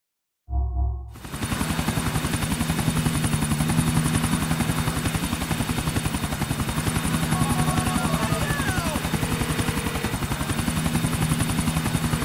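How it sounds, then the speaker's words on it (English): A helicopter from Grand Theft Auto IV holds a steady, loud rotor drone for about eleven seconds after a brief lead-in, with a faint higher whine sweeping briefly midway. "We shut down that chopper for you."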